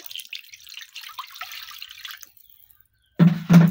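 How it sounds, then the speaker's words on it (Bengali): Water poured into a cooking pot to boil fish gives a soft, faint trickle, then after a brief pause two heavy, close clunks from the pot. "পানি দিয়ে দিচ্ছি"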